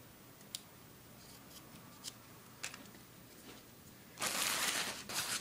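Scissors snip through a strip of duct tape while making a keychain roll, a loud crisp burst of cutting near the end after a few faint clicks and rustles in a quiet room.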